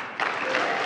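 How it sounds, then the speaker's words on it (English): Audience applause breaking out during a political speech, a dense burst of clapping that starts abruptly and stays loud and steady. "can the guys say two sentences before they start clapping again?"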